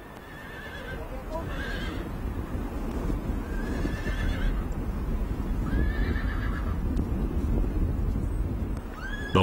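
Sturdy horses in Huanglong, China, whinny repeatedly over a steady bed of hoof clatter and outdoor wind, several loud neighs rising at intervals across the scene.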